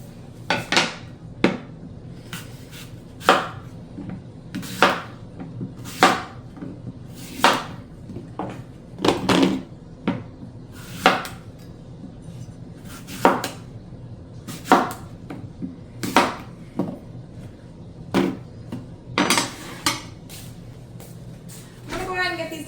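A knife cuts apple slices on a board in a series of sharp, irregular chops and clacks, each close and distinct, with a person talking between the cuts.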